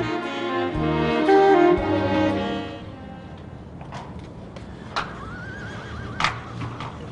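A horse neighs loudly in a stable, a long whinny rising over a steady low background, followed by scattered hoof knocks and shuffling, with a second, fainter whinny later.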